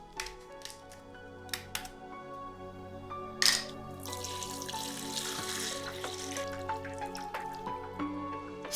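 Clean mountain water pours steadily into a pot over meat with a broad splashing rush, preceded by a few scattered drips and light kitchen clinks.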